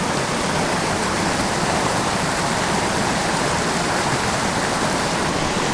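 Water rushing and bubbling in a tiny creek with foam, a dense, steady, broadband wash that stays constant and fairly loud throughout with no pauses.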